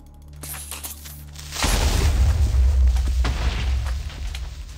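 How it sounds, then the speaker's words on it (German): A Minecraft creeper explodes in the game, a loud, sudden deep boom that breaks in partway through and leaves a long rumbling roar with crackling debris behind it, no talk. "Rote Creeper, die sofort explodieren."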